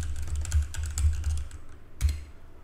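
Rapid typing on a computer keyboard while naming a C# script, a steady run of close, crisp key clicks with a brief pause and a final louder tap, no voices.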